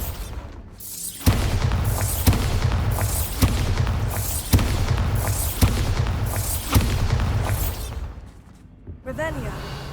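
Repeated booming blasts from the Bombarda spell in Hogwarts Legacy, seven or eight loud explosions at roughly one-second intervals, each with a whooshing tail, then a quieter stretch with a brief voice near the end.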